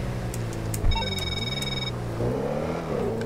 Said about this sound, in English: Oh, just that purr. Hear that purr?